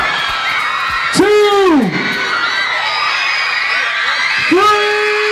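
A concert crowd awaiting a pop singer screams and cheers in loud, rising bursts, one surge and then another, over a steady roar of many voices.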